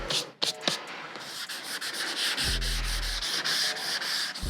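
Steady rhythmic rasping of sandpaper rubbed back and forth on primer on a car hood, close and continuous, with a brief low hum partway through.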